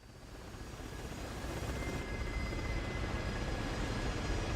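Steady aircraft engine drone from a plane taxiing in the DCS World flight simulator game, a continuous broadband hum that swells slightly and then holds at an even level with no talk over it.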